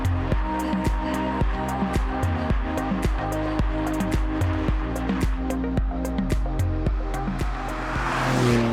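A Porsche 718 Cayman GT4 sports car driving, its engine a steady low rumble marked by regular sharp clicks, close and continuous, swelling into a brief rush at the end.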